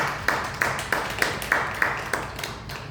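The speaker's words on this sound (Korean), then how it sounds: "우리 박수로 한번 감사를 하고" A church congregation claps together in a steady, even rhythm, sharp handclaps landing roughly three times a second, moderately loud and fairly close, with no talking over them.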